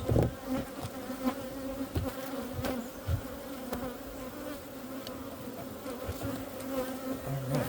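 Steady droning buzz of many honey bees close by at an open hive, continuous throughout, with occasional knocks from handling frames and a brief spoken word.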